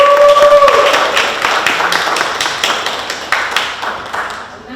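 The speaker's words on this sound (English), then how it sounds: "Please give them a big round of applause." An audience at a carnival pageant sashing ceremony claps for sponsors, a short burst of loud, dense hand clapping that fades out over a few seconds.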